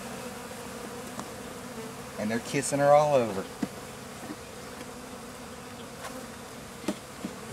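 Honey bees buzz loudly during a package install into a top bar hive, a dense close swarm hum with a rising burst of wingbeats in the middle, briefly under a single spoken line.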